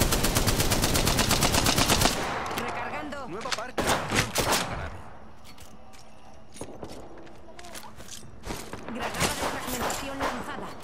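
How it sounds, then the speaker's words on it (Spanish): Automatic gunfire in the Apex Legends battle royale game, dense rapid bursts for the first two seconds, then scattered single shots and short volleys with game sounds, a voice speaking over parts of it. "Abriendo fuego"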